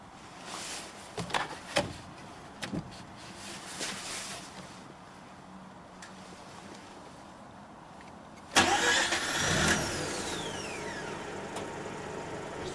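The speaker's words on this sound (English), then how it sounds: "Now let's start the engine." A Mazda RX-8 with a Wankel rotary engine, 231 bhp and converted to LPG autogas, cranks over and starts. A few quiet clicks and knocks come first, then the engine fires with a sudden loud catch and settles into a steady, buzzy idle nearby.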